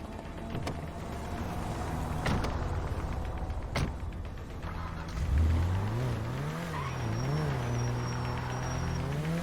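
A car in the GTA 5 game driving on the Western Highway near Chumash: a steady engine drone with a few sharp clicks, then the revs climb and waver as it accelerates.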